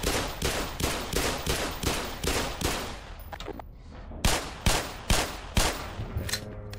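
Steady single gunshots in Black Mesa, a rhythmic series of sharp loud cracks about every half second, a short pause, then several more spaced shots.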